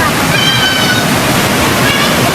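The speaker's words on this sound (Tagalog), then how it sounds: "Palugtok Falls" Steady broadband rush of a waterfall at Palugtok Falls in Sta. Magdalena, Sorsogon, loud and continuous throughout, with faint voices mixed in.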